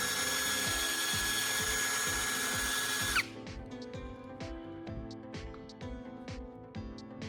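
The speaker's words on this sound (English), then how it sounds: "Make sure the bolt is clamped tightly in the chuck so it spins smoothly and safely." A power drill whirs steadily, then cuts off. A run of sharp ratcheting clicks follows as the chuck is twisted tight on a bolt.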